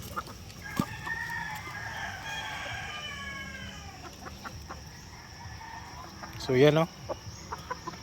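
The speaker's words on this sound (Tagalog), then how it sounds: "Kumakain agad itong mga manok natin." Free-range chickens cluck and chatter nearby while eating, with a louder squawk near the end and a few brief spoken words.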